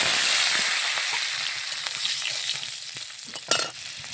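Garlic cloves sizzle and crackle in hot mustard oil, a steady close frying hiss that eases slightly before a brief louder burst of spitting near the end.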